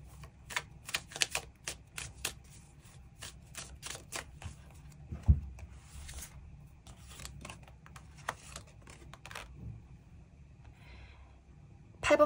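Tarot cards shuffled and drawn, a run of crisp riffling flicks and soft slaps at close range, with quieter pauses and a sharp knock midway.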